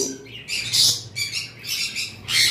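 A pair of large red conure parrots squawk in a series of harsh, shrill bursts, close and loud, with short pauses between calls and no talking.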